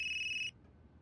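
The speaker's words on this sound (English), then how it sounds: "Ooh, Dwight's second phone call to Shredder" Telephone ringing in the Unheard video game, a single bright electronic ring tone that sounds for about half a second and then cuts off, leaving faint low background hum.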